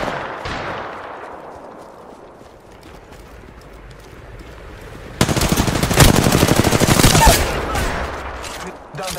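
Rapid automatic gunfire in Apex Legends, loud bursts of dense shots following a quieter stretch with a voice speaking under the game sounds.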